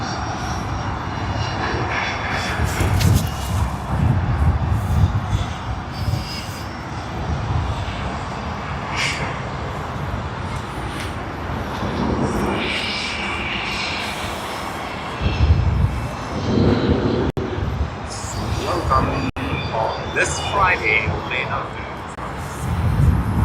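Aircraft engines roar continuously at Sydney International Airport on a late Friday afternoon, surging louder at the start and again near the end, while someone talks over the noise.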